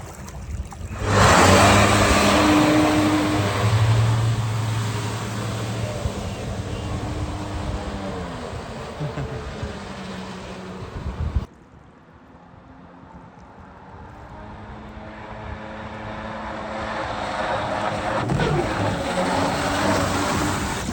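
Tesla-powered electric jetboat accelerating hard on water, a loud rushing roar of jet thrust and spray with a rising whine, easing off briefly before surging again.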